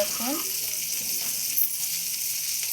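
Garlic frying in a spoonful of butter for a Maggi bird's nest snack gives a steady, close hiss of sizzling that runs unbroken throughout, with a faint brief clink partway through.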